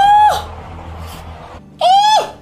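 Two sharp rising-then-falling screams ring out in The Walking Dead video game, one at the start and another near the end, loud and close over low background noise.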